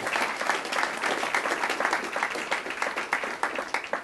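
An audience at a hypnosis show in Boston gives a full round of applause, thick and continuous clapping that stays steady from start to finish.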